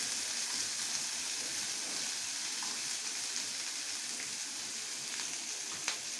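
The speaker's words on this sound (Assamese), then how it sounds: "পিঁয়াজখিনি অলপ ৰঙচুৱাকৈ ভাজি তাত বিলাহীখিনি দিম।" Onions sizzle steadily in a hot pan for making raw banana kofta, a close, continuous frying hiss with occasional faint crackles and pops and no talking.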